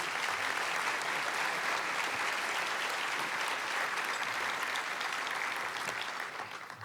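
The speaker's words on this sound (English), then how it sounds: "Please give them a round of applause." An audience at a Forum Club event with Governor John Kasich applauds steadily, a dense wash of clapping that holds for several seconds before starting to thin at the end.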